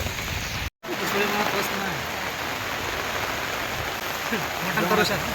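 Steady rain falls around a rider near Gokak, a dense, even hiss that runs through the whole stretch apart from one brief dropout, with someone talking over it.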